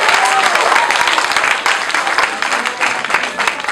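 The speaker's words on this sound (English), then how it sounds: "Please give them a big round of applause." Audience applause at a Durga Puja cultural show, loud dense clapping with some crowd noise and cheering throughout, tapering slightly near the end.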